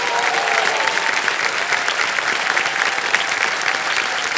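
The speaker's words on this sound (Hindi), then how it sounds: "तालियां बज जाए इनके लिए।" A studio audience applauds a contestant on a quiz show, a dense, even wash of many hands clapping that holds steady and close throughout, with no voices over it.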